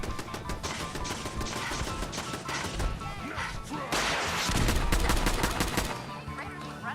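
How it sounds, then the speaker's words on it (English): Raiders fire rapid, overlapping gunshots during a Fallout 4 firefight, dense bursts and cracks that swell louder midway through the stretch and dominate the whole clip. "Somebody's shooting."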